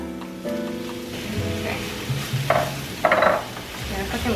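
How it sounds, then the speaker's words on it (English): Food sautéing in hot oil in a pan for a minced pork and noodle dish, a soft sizzle with a few brief louder bursts of crackle as ingredients hit the oil, close, over a low background hum. "We're gonna start sauteing."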